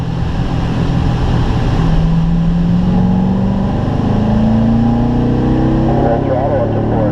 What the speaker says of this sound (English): roll into the gas here with me.